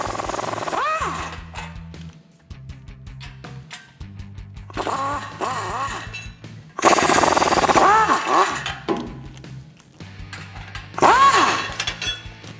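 A socket ratchet loosens the 13mm bolts holding a factory catback to the Y-pipe on a 2011-2014 Ford F-150 5.0L. Bursts of rapid, steady mechanical clicking start and stop several times, close by, with music playing over them.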